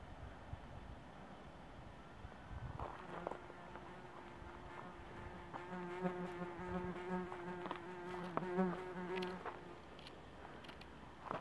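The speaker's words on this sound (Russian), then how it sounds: "Какая-то оса увязалась." A wasp buzzes close by on a mountain summit, its droning hum starting partway through, swelling and wavering for several seconds, then fading, with faint wind behind it.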